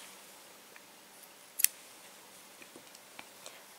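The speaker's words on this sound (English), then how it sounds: "cut your yarn" Scissors snip yarn with one quick, crisp cut in a quiet room, followed by a few faint small ticks.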